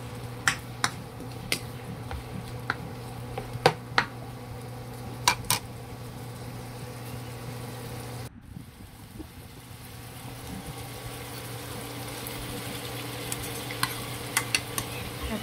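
Chicken sopas ingredients, seasoned with pepper powder, are stirred in a cooking pot, with sharp spoon-on-metal clicks and scrapes over a low sizzle and hum. No one speaks.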